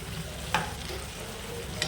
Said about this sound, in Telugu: కొంచెం వేసుకొని మరొకసారి కలుపుకుందామండి.